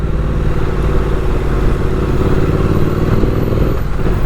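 A motorcycle rides through Philadelphia city streets in winter, its engine a loud, steady mid-pitched drone with wind and road rumble running continuously throughout, no talking.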